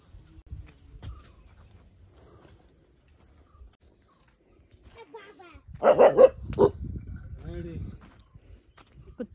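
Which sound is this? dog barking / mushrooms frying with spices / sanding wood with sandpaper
dog barking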